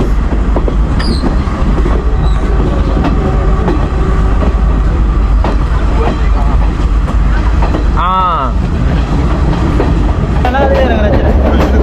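A passenger train on the Colombo to Kandy line in Sri Lanka rolls steadily along the rails with a loud, continuous rumble and clatter, and a brief wheel squeal partway through.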